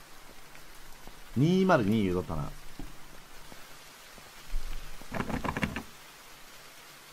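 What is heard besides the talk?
rain falling in a video game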